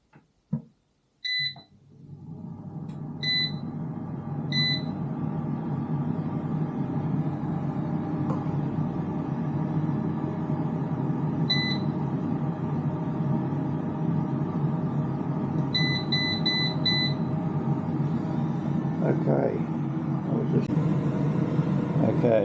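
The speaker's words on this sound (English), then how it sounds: "we'll switch the air fryer on and get it hot" An air fryer is switched on with a run of short electronic beeps, then its fan settles into a steady whirring hum of heating, with a few more beeps later and a person talking over it.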